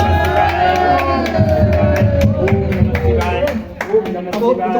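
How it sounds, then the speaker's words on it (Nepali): Clapping at the inauguration of a home temple on Mahashivaratri, steady rhythmic hand claps under loud chanting and crowd voices, with sharp percussive accents throughout. "ताली बजाउने"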